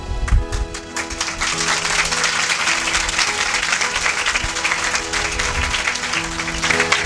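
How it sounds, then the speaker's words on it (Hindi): A church congregation at a sermon applauds steadily, many hands clapping in a dense, continuous wash close by, with brief voices mixed in. "क्या आप जैसे मैं बोल रहा हूं वैसे ही ताली बजा रहे हैं?"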